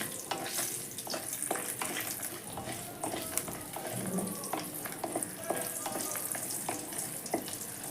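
Lentil bori dumplings fry in oil for a Bengali fish curry, giving a continuous close crackle and sizzle with scattered sharp pops and stirring scrapes throughout.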